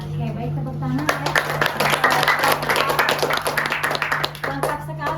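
Classroom applause during a university teaching session: a small group clapping steadily for about four seconds beside a constant low hum, with a voice speaking over it.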